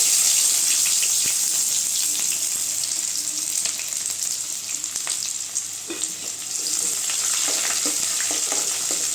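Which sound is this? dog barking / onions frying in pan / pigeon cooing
onions frying in pan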